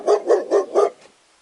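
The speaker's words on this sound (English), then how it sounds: "D for dog." A dog barks four times in a quick, evenly spaced burst, loud and close, then falls silent.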